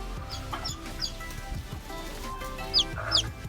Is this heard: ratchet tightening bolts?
no